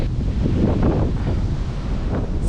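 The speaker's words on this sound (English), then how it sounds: "It's really windy" Strong storm wind during Storm Eunice roars and buffets the microphone in loud, rough gusts, with a surf-like rush and no speech.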